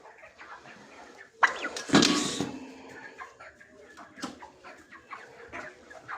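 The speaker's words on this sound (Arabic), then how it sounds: "اهو ده الديك اهو" A month-and-two-week-old male turkey, a tom of about 3.5 kilograms, gives loud bursts of gobbling and clucking calls close by, mixed with quieter poultry noises in between.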